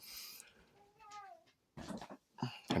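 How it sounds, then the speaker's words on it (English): A cat meows several times at close range, with short bursts of other noise between the calls. "And now I have a cat climbing on me."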